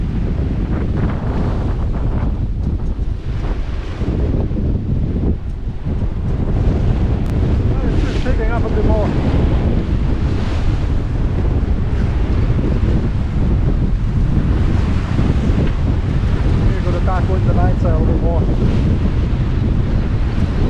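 Strong wind roars and buffets the microphone aboard a Westsail 32 sailboat on a stormy sea, with waves washing and surging steadily underneath and the occasional voice barely rising above the gusts.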